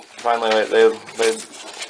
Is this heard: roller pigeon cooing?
yes